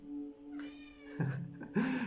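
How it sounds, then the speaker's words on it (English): A domestic cat meows close by, two or three clear, fairly loud calls in quick succession with little else around them. "you can come, Kitty. You can come. I don't stop you"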